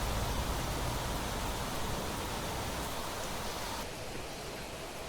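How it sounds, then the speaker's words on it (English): Heavy rain pours down steadily in a planet-terraforming video game, a dense, loud and even hiss of water that fills the whole stretch without pause, dipping slightly toward the end. "God, this rain's coming down heavy"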